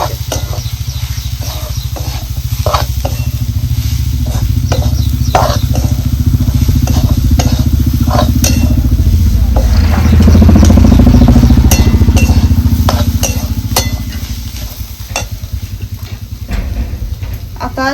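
Matki dal sautéed and stirred in a pan for a village-style dal kanda, with a steady sizzle under a low rumbling hum and repeated scraping clicks of stirring through most of the stretch.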